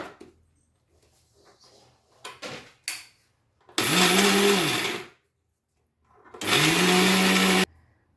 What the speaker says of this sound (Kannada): ಇದಕ್ಕೆ ಇವಾಗ ಗುರಳ್ ಹಾಕ್ಕೊಂಡು ರುಬ್ಕೊಳ್ಳೋಣ ಬನ್ನಿ